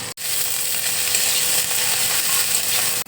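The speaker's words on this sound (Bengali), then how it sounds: "এবার আমি গোটা জিরে দিয়ে দিচ্ছি, কাঁচা লঙ্কা দিয়ে দিচ্ছি, রসুন দিয়ে দিচ্ছি।" Cumin seeds, green chillies, garlic and coriander leaves crackle in hot oil, a continuous bright sizzle with faint stirring scrapes, heard close up for a few seconds.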